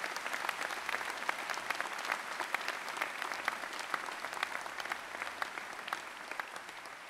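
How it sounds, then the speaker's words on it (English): The audience at an NYPD police academy graduation ceremony applauds for a new officer, sustained crowd clapping with crisp individual claps poking through a steady wash of sound for several seconds. "let's give him a round of applause"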